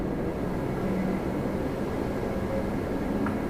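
A Lufthansa airliner taxis under its own power across the ramp at Toronto Pearson, giving a steady, even rumbling drone with no talk over it.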